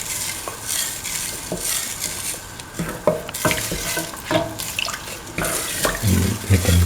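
A spoon stirs mung bean and tomato stew in a pot, giving repeated close scraping and clinking strokes over a soft simmering sizzle, with a louder knock near the end.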